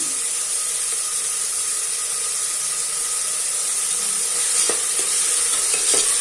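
Onions sizzle steadily in a pan with turmeric and salt for mutton masala gravy, a constant close frying hiss with a few soft scraping stirs near the end.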